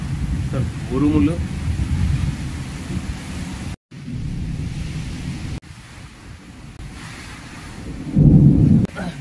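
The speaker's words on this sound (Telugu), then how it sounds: "విపరీతమైన వర్షం ఉరుములతో కూడినటువంటి వర్షం పడుతుంది" A heavy thunderstorm with strong wind and rain: loud, continuous low rumbling and roaring wash with brief dropouts and a heavier surge near the end, while a voice talks over it.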